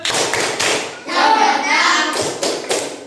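A group claps together in a quick rhythmic pattern, the sharp claps broken up by a stretch of busy, noisy activity in the middle.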